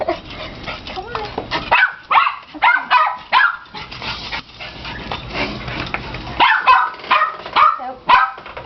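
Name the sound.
dog Aspen barking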